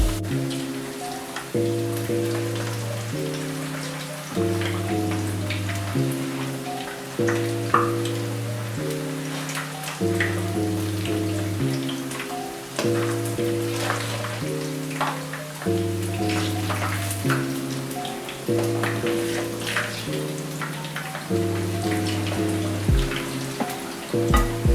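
Plantains fry in hot oil with a steady, crackling sizzle that runs the whole time. Rhythmic background music plays over the sizzle.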